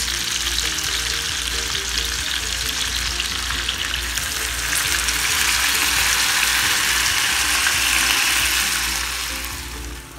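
Chicken sizzles and fries loudly in a hot pan with marinade sauce, a steady crackling hiss that fades slightly at the end, with no voices.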